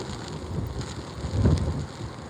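Strong wind of about forty blowing at a bridge while fishing for trout, a dense low rumbling roar buffeting the microphone, steady with a brief gust swelling near the middle.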